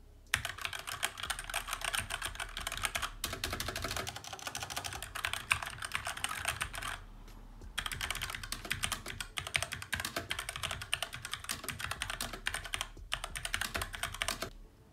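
Steady, rapid typing on a SteelSeries Apex M750 TKL mechanical keyboard, dense clacking keystrokes that run continuously with two brief pauses, close and fairly loud with no voices.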